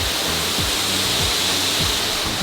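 A steady, loud rush of flowing water at a zoo exhibit, a continuous broadband roar heard close and alone with no talking.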